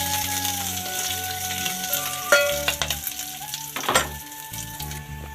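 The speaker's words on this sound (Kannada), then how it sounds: "ಕರಿಬೇವು ಈರುಳ್ಳಿ ಹಾಕ್ತಾಯಿದ್ದೀನಿ. ಇದನ್ನು ಸಹ 2 ನಿಮಿಷ ಬಾಡಿಸ್ತಿದ್ದೀನಿ." Onion and curry leaves fry in hot oil in a pan with a steady, loud sizzle, broken by a few sharper crackles and spatters and some stirring clinks.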